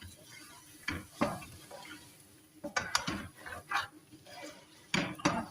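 Potatoes and minced keema stir-fried in a karahi, with scattered scraping and clattering of a spatula against the metal pan in uneven strokes over a low sizzle.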